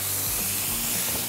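Fresh spinach hits a hot skillet in a home kitchen, already holding shallots cooked until slightly burnt, giving a steady, close hiss of sizzling with no voices.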